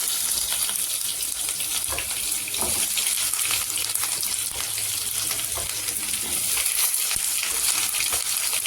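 Dried red chillies and onion frying in a pan give a steady, dense sizzle throughout, close and moderately loud, with occasional stirring scrapes and no voices.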